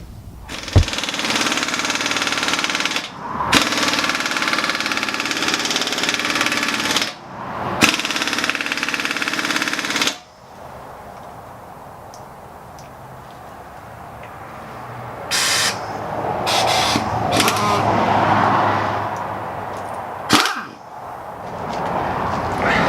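A compact 1056 XL air impact wrench swapping car wheels gives long, loud rattling bursts of hammering, several seconds each, separated by short gaps, followed by quieter shorter bursts and clanking in a garage.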